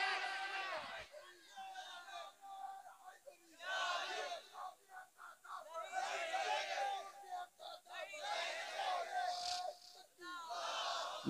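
Crowd at a religious gathering chanting a slogan in response, many voices rising together in rhythmic call-and-response bursts over a reverberant hall, loud surges separated by short pauses.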